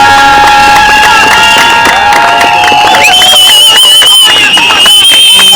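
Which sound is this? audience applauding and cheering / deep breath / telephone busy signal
audience applauding and cheering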